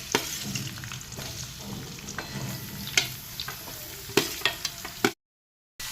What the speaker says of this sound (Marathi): कढई ठेवलेली आहे गॅसवर, त्याच्यात तेल 1 चमचा, तेल तापलेलं आहे, त्याच्यात कांदा परतून घ्यायचा आहे